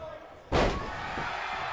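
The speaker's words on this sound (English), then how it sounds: "Slamming him down with that." A wrestler is slammed down in the WWE 2K19 wrestling video game: one loud, sudden impact thud lands midway, then crowd-like ambience and a commentator's voice carry on underneath.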